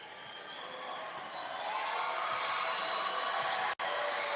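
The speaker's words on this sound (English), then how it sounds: "Crowd making some noise, trying to get in Coleman's head." Steady crowd roar fills an arena at a Vancouver Volcanoes versus Salem Capitals basketball game during a free throw, a broad, sustained wash of many voices that swells midway and cuts out for an instant near the end.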